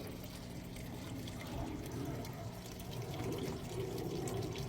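Water runs steadily from an outdoor aquaponics grow bed, cleaned and pumped back toward the fish tank and sump, a continuous close trickle and splash with no talk over it.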